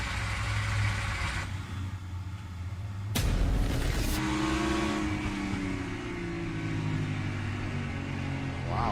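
A NASCAR Cup Series race car in practice at Richmond Raceway, loose on corner entry, its engine droning then surging as the throttle is held open, a loud burst passing close and fading back into a steady roar.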